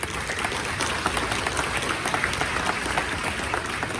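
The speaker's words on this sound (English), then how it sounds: "we can give her a round of applause, please" A crowd at a community town hall meeting gives a school principal a round of applause, a thick, steady wash of many hands clapping, fairly loud and close, lasting several seconds.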